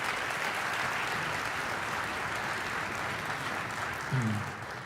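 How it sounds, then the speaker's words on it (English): Audience applauding at a live concert band performance, a dense sustained wash of clapping from a large crowd that holds steady and then begins to thin toward the end. "We have, yes, a round of applause."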